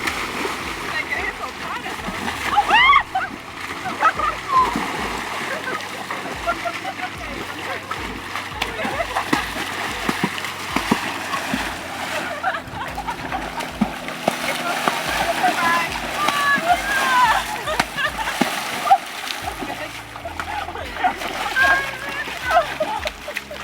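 A horse named Bunny splashes and sloshes through water on a trail ride, churning steadily for a long stretch with a voice and other talk mixed in.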